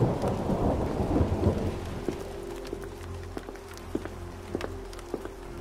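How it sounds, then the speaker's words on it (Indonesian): Heavy rain pours down steadily while rumbling thunder rolls low and close in a windy storm, with several sharp drips or knocks sounding near in the second half. "Di luar sedang hujan angin."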